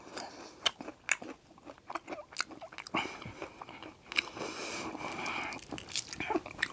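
Repeated loud crunchy bites and chewing of fried chicken, close up, with sharp crackling bursts at an irregular rhythm and no talking.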